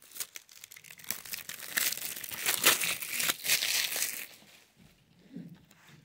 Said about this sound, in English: Now we're going to take the plastic off